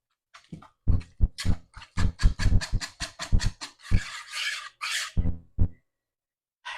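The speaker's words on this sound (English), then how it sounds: "Let's whisk this together really well." Pumpkin spice dump cake ingredients whisked in a bowl make rapid, rhythmic scraping strokes, a brisk series of close, sharp rasps with short pauses between bursts.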